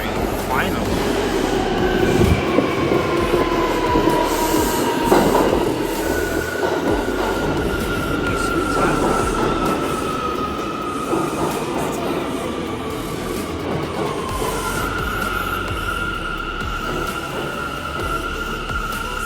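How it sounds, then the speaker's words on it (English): A New York subway J train pulls into Fulton Street station: loud rumbling and clattering wheels with sustained high metallic squeals that shift in pitch as it slows, and voices are heard faintly at times. "Here's our J train."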